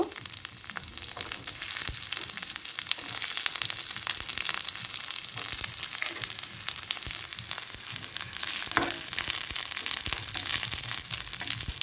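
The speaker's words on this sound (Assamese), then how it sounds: "তেলখিনি মোৰ গৰম হৈ গৈছে ইয়াতে মই নহৰু কেইটা দি আছো সাৱধানে দি দিব" Garlic cloves fry in hot oil in a pan, giving a continuous close crackling sizzle with dense popping that holds steady throughout.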